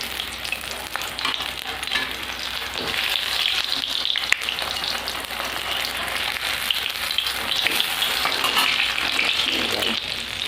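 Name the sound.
chilli chops frying in oil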